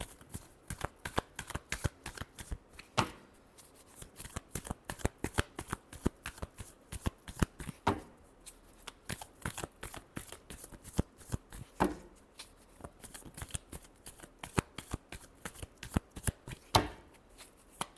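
A deck of tarot cards is shuffled by hand in a long stretch of rapid, crisp flicks and slaps, close and steady, with a few heavier thumps and no voices.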